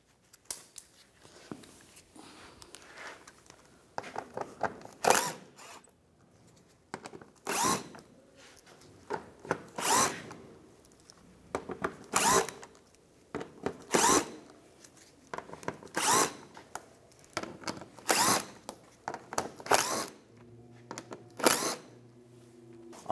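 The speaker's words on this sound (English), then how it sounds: "Now we'll take all these front screws out" Power tool with a 7mm socket spins out front bumper screws on a 2015-2019 Lincoln MKC, firing in short, loud whirring bursts separated by quiet pauses, with a few clicks and rattles between runs.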